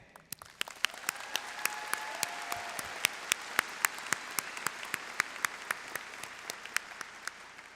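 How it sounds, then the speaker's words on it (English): Graduates, families and friends applaud at a spring college commencement in a large hall, scattered sharp claps ringing out over a broad, sustained crowd wash that continues throughout. "a round of applause to yourselves and also to families and friends who have supported you on this journey"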